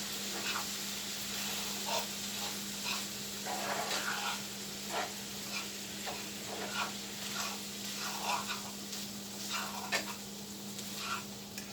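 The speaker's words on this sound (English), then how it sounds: "And then I'm going to give it a good stir." Shrimp seasoned with Old Bay sizzling steadily in a hot pan for a hibachi-style dish, with a soft constant frying hiss and repeated scraping clicks of stirring, plus a low steady hum underneath.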